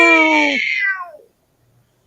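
A person imitates a cat's meow with one long, drawn-out, falling call, loud and close, followed by silence and a brief faint sound at the end.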